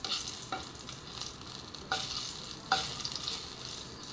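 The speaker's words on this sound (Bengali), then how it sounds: "আমি কিছু শুকনো লঙ্কা ভেজে নেব শাক রেসিপিটা জন্য।" Dried red chillies fry in a pan for a taro-leaf greens dish, giving a steady close sizzle with a few sharp stirring scrapes of a spatula against the pan.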